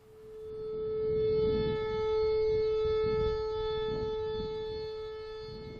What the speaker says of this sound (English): it's likely just a malfunctioning tornado siren, like this